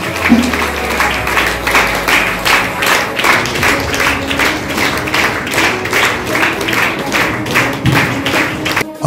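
A women's meeting crowd in Huzur Nagar, Telangana claps steadily in applause to welcome a speaker to the stage, a dense, sustained patter that stays loud throughout with a few heavier thumps.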